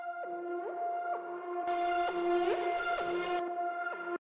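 A bright, dreamy synth lead plays a slow melody with gliding notes, sustained and sweet, with a brighter, busier passage in the middle before stopping abruptly.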